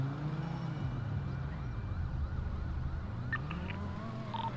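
A steady electronic siren-like wail with rising and falling tones runs throughout over a constant engine rumble, with no voices; a vehicle horn siren in GTA roleplay.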